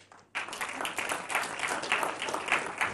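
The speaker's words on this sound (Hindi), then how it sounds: "ताली नहीं बजाएंगे आप लोग?" After a short quiet moment, an audience at a Hindi political speech breaks into clapping, a full, steady round of many hands that carries on with slight swells until the end.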